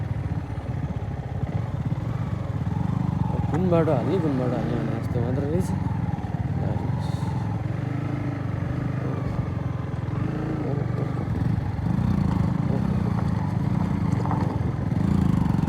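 Several motorbikes ride one behind another along a rough, broken road, their engines droning steadily throughout, with someone talking over the noise for most of the time.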